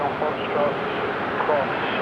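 Aircraft taxiing along a taxiway at Sydney Airport toward a runway for night departure, a steady distant engine rumble with a faint rising whine, under an airport radio chatter and talk.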